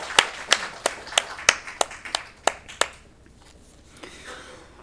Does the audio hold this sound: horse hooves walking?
no